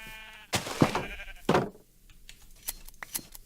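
Two close, loud sheep bleats from the Minecraft video game, each a wavering nasal cry, followed by soft clicking game sounds.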